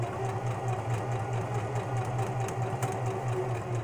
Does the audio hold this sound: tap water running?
no